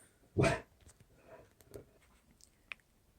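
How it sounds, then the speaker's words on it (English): A dog gives one loud, close bark, followed by a few faint yips and small clicking sounds in an otherwise quiet room. "My dog barks whenever somebody walks by."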